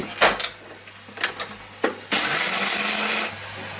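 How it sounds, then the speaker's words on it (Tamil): A mixer grinder grinds ginger and garlic into paste, a loud steady whirring roar lasting just over a second, preceded by a few soft clicks and knocks. "இஞ்சி உள்ளி, இதையும் மிக்சரில் போட்டு நன்றாக அடிக்க வேண்டும்"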